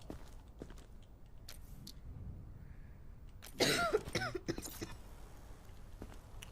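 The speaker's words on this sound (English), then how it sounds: "Don't cough on me." A single cough from a character in the video game Quarantine Zone, a sharp burst partway through over a low ambient background with faint scattered clicks and footstep-like sounds.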